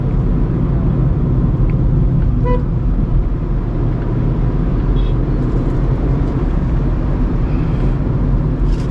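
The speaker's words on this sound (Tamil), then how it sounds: "அப்படியே கொஞ்சம் இன்ஜின் நாய்ஸ் கொஞ்சம் கேட்க வண்டியில் வந்து உங்களுக்கு." Volkswagen Polo diesel engine droning steadily from inside the car while driving in top gear, a constant low rumble with road noise and no break.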